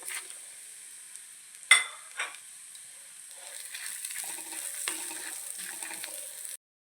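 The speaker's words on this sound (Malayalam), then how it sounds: "ഇഞ്ചി കഷ്ണം തേങ്ങാക്കൊത്ത് ഇതെല്ലാം കൂടി നമുക്ക് കൂട്ടി ഒന്ന് നന്നായിട്ട് വറുത്ത് മൂപ്പിച്ചെടുക്കാം" Whole spices, ginger pieces and coconut bits dry-roasting in a pan for a Kerala chicken curry, a soft steady sizzle with a couple of sharp stirring scrapes, close and alone without talk.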